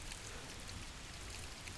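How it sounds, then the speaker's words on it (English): Steady, soft rain hiss in a dusky-red night scene of a PSX-style horror video game, continuous and fairly faint with no voices. "The rain."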